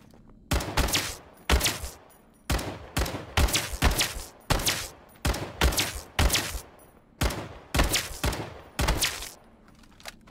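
CX-4 Storm rifle in the battle royale video game Islands of Nyne, firing single shots in quick uneven bursts, each crack loud and close with a brief echoing tail, about two dozen shots in all.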